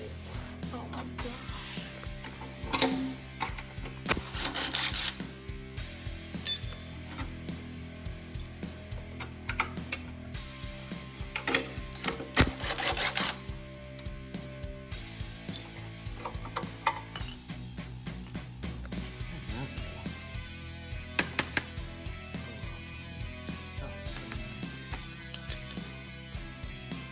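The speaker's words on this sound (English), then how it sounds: "Alright, let's unbolt this motor plate." Ratchet clicks and metallic clatter come from unbolting the motor plate on an old Manco Magnum Express go-kart, in irregular bursts of close, moderately loud tool strokes with short pauses in between.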